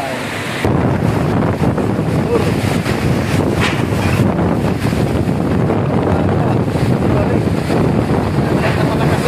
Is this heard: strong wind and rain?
yes